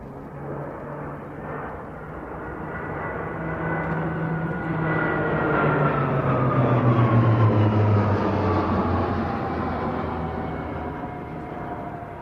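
A display aircraft arriving at the Royal International Air Tattoo 2022 airshow, its engine drone swelling steadily as it approaches and passes overhead with a falling pitch, a continuous loud roar without speech.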